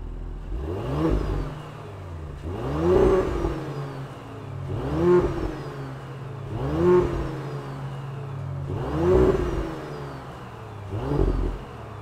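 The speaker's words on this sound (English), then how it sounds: "let's fire up this S5 and hear what it sounds like" A 2021 Audi S5 Sportback engine revs repeatedly, five or six rising and falling swells in a steady rhythm, each climbing to a peak and dropping back to a rumbling idle, close and clear with no talking.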